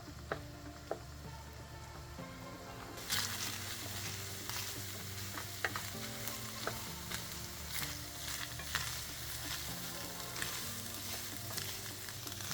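Ground beef with chopped onion frying and being stirred in a hot pan, a steady close sizzle with scattered spoon scrapes and ticks, no talk.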